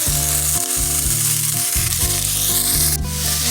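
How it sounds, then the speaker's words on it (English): Ground beef sizzles loudly in a skillet with a dense, continuous hiss and crackle, a low rhythmic scraping and stirring underneath, heard up close and with no talking. "After a minute, we're going to add in our ground beef."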